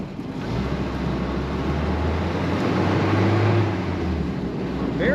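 A 1964 Amphicar 770 convertible's engine drones steadily as the car slows and shifts into first gear, a continuous low rumble with some wind noise and no talking.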